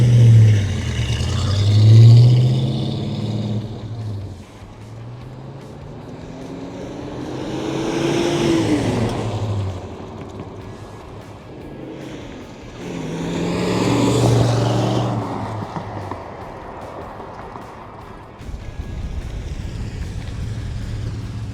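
A 1970 Dodge Charger R/T SE makes repeated passes, engine swelling as it approaches and fading away, with a loud rise near the start and two more surging flybys later, heard outdoors without talk.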